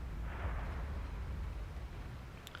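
A tank cannon shot in World of Tanks, a Comet's blind round at a T-29's last spot, booms low and heavy at the start and rumbles away under steady low battlefield noise.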